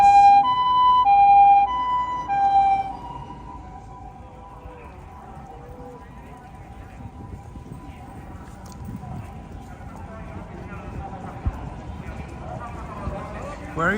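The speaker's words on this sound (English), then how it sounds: "Another fire engine or ambulance." A two-tone emergency siren from a fire engine or ambulance wails loudly at first, then fades off into evening street ambience in Tokyo with a person talking over the traffic noise.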